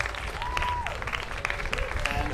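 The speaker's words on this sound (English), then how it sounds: "Please give another round of applause for our amazing panelists" Audience clapping for panelists at an outdoor anniversary gathering, a short burst of crowd applause with voices and a rising tone mixed in underneath.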